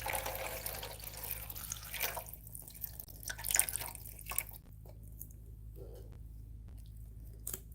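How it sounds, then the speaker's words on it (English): Water trickles and drips into a seedling nursery tray, faint splashing and patters that thin out into scattered drips, quiet and close. "So let's put our water in here."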